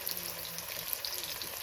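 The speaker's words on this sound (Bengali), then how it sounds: "পেঁয়াজগুলোকে একটু ভেজে নেব" Chopped onions fry in a pan with oil, a soft, continuous sizzle crackling at low volume with no voices over it.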